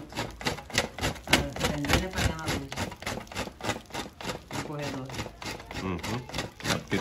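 Wax crayons are rubbed against a grater in quick, rhythmic rasping strokes, close and fairly loud, with some voice mixed in.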